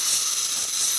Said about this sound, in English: As you can hear and see, it's a nice powerful steam,